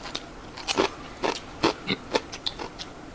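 Dried sea snakehead fish is chewed up close, with about eight sharp, crunchy bites at uneven intervals between quieter moments.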